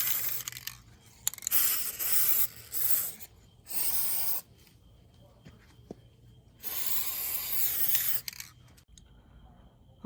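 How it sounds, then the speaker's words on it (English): Glitter sealer spray paint hisses from an aerosol can in several short bursts of uneven length, separated by quiet pauses, close and moderately loud with faint handling noise between. "now I'm about to spray some of this on there"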